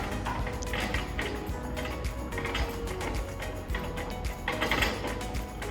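A leg winder on a ProRXM solar lighting tower is cranked down with a steady ratcheting, clicking mechanical rhythm heard close and continuous, with no speech.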